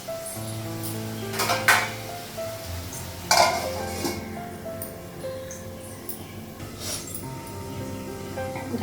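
A metal lid is set onto a cooking pot during a home Bengali kitchen session, with a few sharp clanks and clinks over a low hum and faint sizzling.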